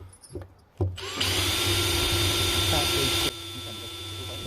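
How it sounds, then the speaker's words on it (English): After a couple of knocks, a power drill enlarging a hole in a 4x4 vehicle for a CB radio install whirs up and grinds steadily at high speed for several seconds, loud and close, then eases slightly. "So now we're just going to drill it out bigger."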